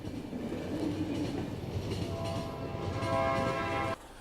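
A train runs in The Final Station video game, a rumbling ride with wheel clatter and a squealing tonal whine near the end that cuts off abruptly.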